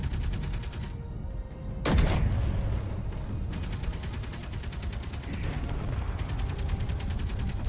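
Heavy rapid autocannon fire in a video game rattles almost nonstop, with a sharp, loud blast near the two-second mark, then sustained bursts continuing to the end.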